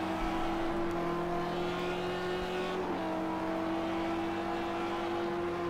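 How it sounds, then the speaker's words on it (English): A big-engined BMW GT3 race car in Project CARS 2 at Zhuhai drones loudly and steadily as it accelerates, its engine tone rising slightly and then dipping once, with no talk over it. "Shagadan on the power now. BMW, big engine, and he's off."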